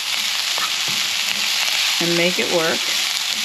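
Garlic fries in hot oil while being stirred in a pan, a loud continuous sizzle filling the background, with a few soft utensil taps and a brief spoken phrase over it.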